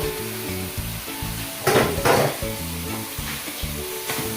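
Jamaican curry conch being stirred in a pot, a steady sizzle with a few louder scraping stirs near the middle, close up and without talk.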